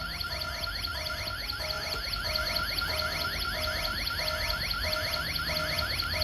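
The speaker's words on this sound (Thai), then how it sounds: "อันนี้เสียงไซเรนตัวนี้ผมตั้งเป็นแบบเบาสุดนะครับ" A quiet Tuya WiFi alarm siren set to its lowest volume warbles steadily throughout, its pitch sweeping up and down in a fast repeating pattern, with a faint background hiss.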